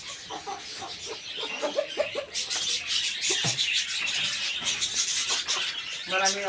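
Brahma chickens clucking and calling in a backyard flock, several birds close by with bursts of clucks and a rising squawk near the end, while a person talks over them at times.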